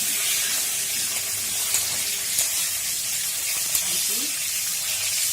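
Five-spice seeds, bay leaves and chillies crackle and sizzle in hot oil, a constant bright hiss with small pops scattered throughout, close by.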